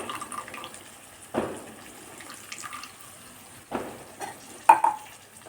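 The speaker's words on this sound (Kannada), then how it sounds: "ಈ ಹುಣಸೆಹಣ್ಣು ರಸನ ಹಾಕ್ತಾಯಿದ್ದೀನಿ" Tamarind juice poured into a pan of hot oil while making tamarind rice, giving two brief bursts of splashing sizzle close by, with quieter stirring and faint frying noise between them.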